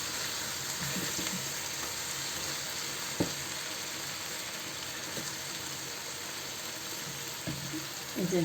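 Blended, lightly boiled tomato cooking in a pan for chicken kabsa, a soft continuous sizzle with a few faint clinks and stirring sounds, fairly quiet and steady throughout.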